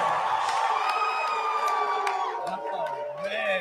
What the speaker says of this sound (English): I knew the crowd was about to go loud.